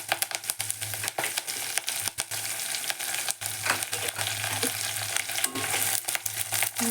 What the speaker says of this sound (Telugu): మంచిగా వేయించుకున్నాం.